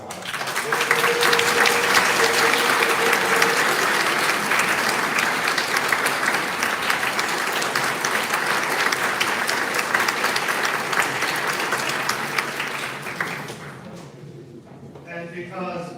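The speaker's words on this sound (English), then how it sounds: "a round of applause for a pro music quartet" A commencement audience applauds a music quartet, sustained loud clapping from a large crowd that runs for many seconds before thinning out and fading near the end.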